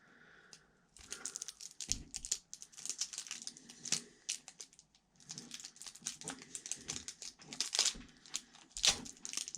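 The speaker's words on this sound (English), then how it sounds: "I'm gonna cut this thing up with my knife." Faint crinkling, scraping and tearing of plastic wrap as a knife slices open the packaging of a Fallout Commander deck, in irregular close-up bursts with brief pauses.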